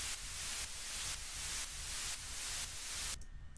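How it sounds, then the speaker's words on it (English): Synthesized white noise layer from the Vengeance sample package in an electronic dance drop: a loud, dense hiss that pumps in about five even side-chained bursts before cutting out abruptly. "So next up I've got my my noise here, white noise, and it's just basically this."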